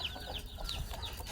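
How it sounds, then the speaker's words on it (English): A disabled chicken in Mahajanga, Madagascar, gives soft, repeated clucks and high chirps, faint and in the background against a low outdoor hum. "He's got a disabled chicken that I try to bring food to every day."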